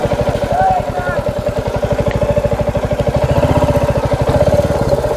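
Royal Enfield motorcycle engine idling steadily at Marble Lake on a Purulia hill ride, a loud, close rhythmic thump with dense regular pulses throughout, faint voice-like sounds over it.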